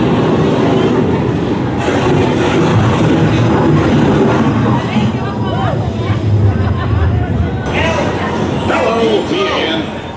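The Cave Train Adventure amusement park ride at Santa Cruz Beach Boardwalk rumbles and clatters steadily along its track, loud and close, with voices talking over the rolling noise throughout.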